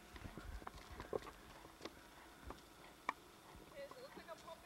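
A horse cantering during backyard schooling, its hooves giving faint, soft, irregular thuds in the distance under quiet outdoor background noise.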